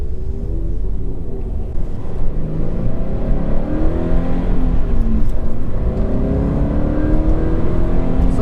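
A stock Subaru BRZ lapping the Canadian Tire Motorsport Park Grand Prix circuit with the air conditioning on, its engine droning and revving steadily up and down through the gears, loud and close with no talking.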